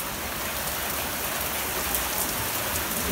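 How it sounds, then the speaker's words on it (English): Heavy rain pours steadily through a thunderstorm, wind sweeping sheets of water across a driveway and yard, a dense continuous hiss that stays loud and close throughout with no talking. "I like how when it's windy and rainy and you kind of like, you see like the rain, it's like sweeps across."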